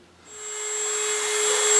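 A diamond-blade disc bites into a carved wooden model boat hull, its steady high-pitched whine swelling louder as the cut deepens and holding as one continuous grind.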